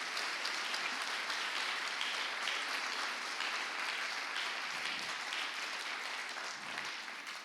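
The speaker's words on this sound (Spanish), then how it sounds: "Dale el aplauso al Padre de las luces eternas." A church congregation claps together during a Spanish-language sermon, dense and sustained applause filling the room for several seconds, holding steady before easing slightly at the end.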